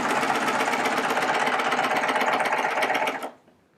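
A Baby Lock Triumph serger runs continuously at high speed as it sews off the cloth, a loud, close, rapid mechanical whir that cuts off abruptly near the end.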